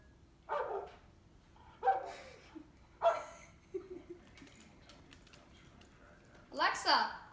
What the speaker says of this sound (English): we will be using our Alexa that we got for Christmas and telling her to bark like a dog